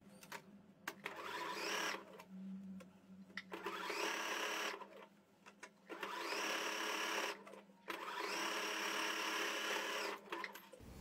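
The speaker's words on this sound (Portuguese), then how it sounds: "Vou passar a costura reta." A sewing machine runs a straight seam on a bath towel being made into a panda hooded towel, whirring in about four separate bursts with short quiet gaps, fairly soft overall.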